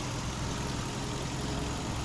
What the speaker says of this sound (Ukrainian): нам потрібно чути звук двигуна.